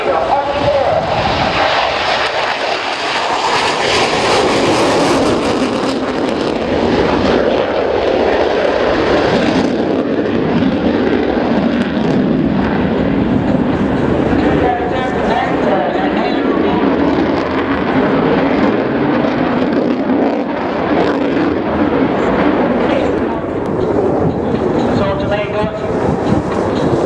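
Italian Air Force Panavia A-200A Tornado jet roaring loudly and continuously through a low flying display, a broad, sustained engine rumble with swelling passes and no clear break.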